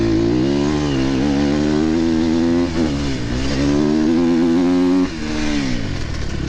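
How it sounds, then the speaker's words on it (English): A Kawasaki enduro motorcycle revs hard and close during a muddy British sprint enduro race, its loud buzzing engine holding steady and then dipping briefly as the throttle eases and picks back up. "The Kawasaki's catching up with me."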